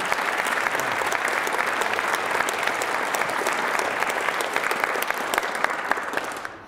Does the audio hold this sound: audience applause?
yes